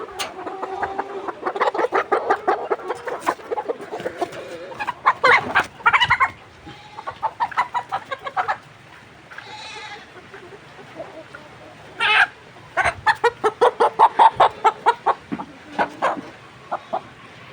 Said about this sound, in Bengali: এখান থেকে একটা মুরগি দেখি